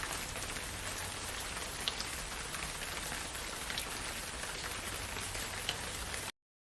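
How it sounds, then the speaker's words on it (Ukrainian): Rain falls in a park, a loud, dense and continuous hiss of drops striking surfaces nearby, with a few slightly sharper drips, until it cuts off suddenly. "Так, звук дощу."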